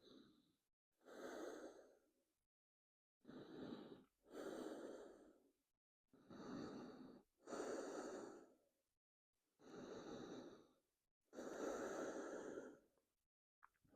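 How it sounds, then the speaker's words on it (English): Slow, deep yoga breaths, close and soft, with about eight separate inhales and exhales spaced a second or two apart against near silence, no talking. "We'll take 4 more breaths here."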